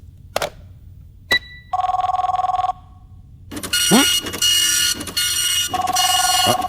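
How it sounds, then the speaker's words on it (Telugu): A fax machine in an office rings in repeated electronic trills, followed by its loud warbling connection tones and buzzing, bursting out between quieter gaps. "అది ఫోన్ కాదు, ఫ్యాక్స్."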